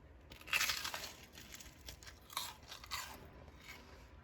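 Crisp crunching of toasted bread being bitten and chewed up close, a few bursts of crackly bites with quiet pauses between them.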